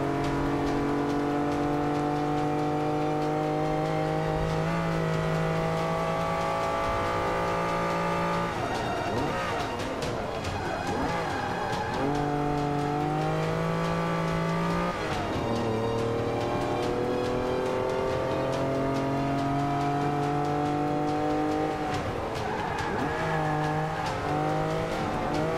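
A race car in the Xbox One game Forza Motorsport 5 accelerates hard, its engine tone climbing through repeated gear shifts over about 25 seconds, loud and continuous with tire noise and other cars around.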